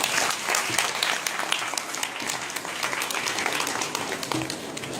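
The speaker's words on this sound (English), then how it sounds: "Please give him a round of applause." An audience claps for a ten-year-old chemistry performer at a school event, a dense, fairly close patter of many hands that holds steady for several seconds.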